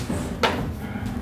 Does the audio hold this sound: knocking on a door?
yes